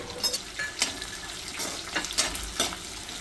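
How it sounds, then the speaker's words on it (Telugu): Green and dry chillies, cashews, chana dal, peanuts, mustard seeds and cumin fry in oil in a pan, a soft steady sizzle broken by repeated scraping stirs, close and fairly quiet, with no talk. "ఫ్రయింగ్ ప్యాన్లో తగినంత నూనె వేయాలి పచ్చిమిర్చి ఎండుమిర్చి జీడిపప్పు శనగపప్పు పల్లి గింజలు ఆవాలు జీలకర్ర వేసి కలపాలి"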